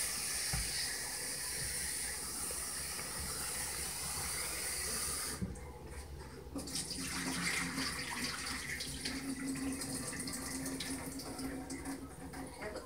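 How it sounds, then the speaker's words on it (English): Cold tap water runs with a steady hiss as boiled noodles are rinsed under it in a kitchen sink, and the splash changes abruptly midway when the noodles meet the stream. "Rinse it off with cold water."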